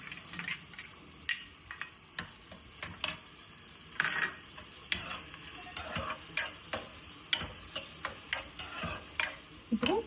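Onions and green chilies frying in a pan for mutton kaju masala curry, a soft sizzle under irregular sharp taps and scrapes of a spoon stirring, fairly quiet and close.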